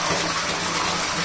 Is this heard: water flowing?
yes